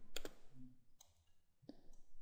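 Two quick computer mouse clicks close together near the start, followed by a couple of fainter clicks later, in a quiet room with no talking.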